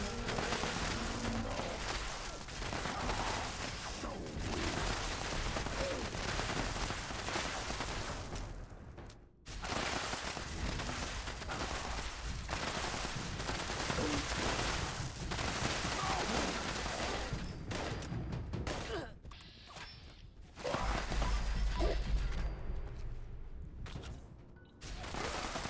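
Explosive-round gunfire in Fallout 76 rings out as repeated loud shots and blasts, nearly continuous with brief gaps, dense and close with a heavy low boom near the end.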